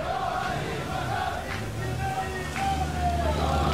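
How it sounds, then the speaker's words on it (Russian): Iranian fans cheer at a tank biathlon event, a steady crowd roar with shouts rising over low rumble from armored vehicles in the distance. "Вот болельщики Ирана радуются."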